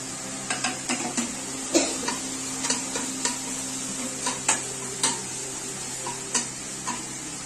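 Chili going into a pan where chicken omelette is frying with about three spoons of oil: steady close sizzle with a string of light clicks and stirring taps, roughly a dozen over several seconds.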